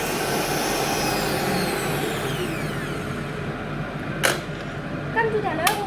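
An electric mixer whips egg whites with a steady, loud whirring drone that thins out toward the end, followed by a couple of sharp knocks.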